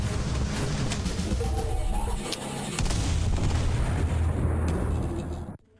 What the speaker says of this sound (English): One well-placed grenade, and just melt right through it